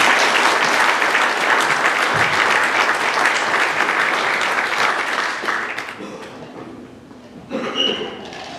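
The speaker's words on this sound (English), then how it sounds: "Let's have another round of applause, please." A crowd claps loudly and steadily for several seconds, then the applause fades out, leaving a brief quieter stretch with a small burst near the end.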